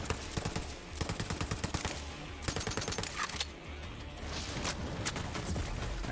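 Bursts of rapid gunfire in Borderlands 3 crackle in quick repeated volleys, dense and punchy at first and then giving way to a rougher, rumbling wash of noise.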